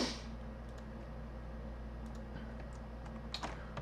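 Light typing on a computer keyboard, faint scattered keystrokes over a steady low hum, growing busier toward the end, with no voice.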